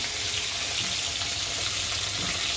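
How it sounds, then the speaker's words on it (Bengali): Eggplant fries in hot oil in a home kitchen, a steady, close hiss and crackle of sizzling that continues evenly throughout with no talking. "এবার বেগুনটা ভেজে নেব।"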